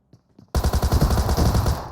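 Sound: shotgun gunfire in the video game PUBG Mobile

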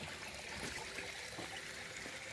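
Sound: water trickling from an old public fountain

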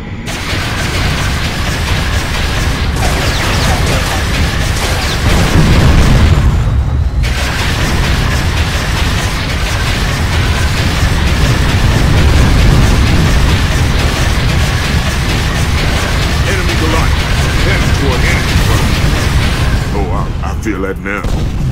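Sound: Goliath tank explosions in Unreal Tournament 3 video game

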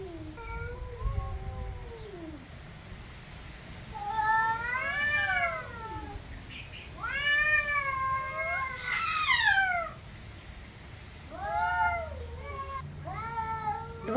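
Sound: cats meowing and caterwauling

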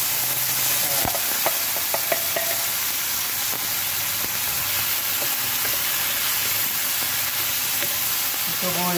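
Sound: stirring Indian beef curry in the pan

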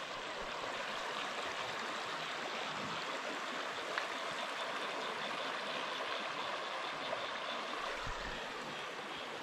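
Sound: river flowing beside a campsite

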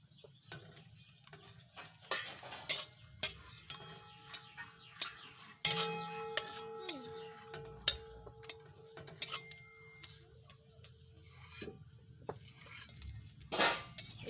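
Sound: dried red chillies being pressed and fried in a pan

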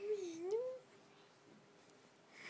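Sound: cat meowing

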